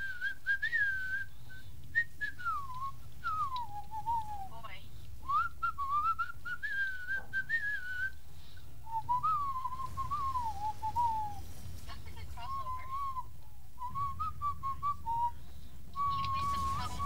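A whistle is blown in a series of long, wavering shrill tones over about seventeen seconds, loud and close with short gaps between blasts, alone without talk.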